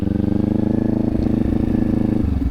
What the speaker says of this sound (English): You hear that jump? That's because we're engine braking.